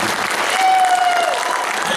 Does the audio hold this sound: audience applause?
yes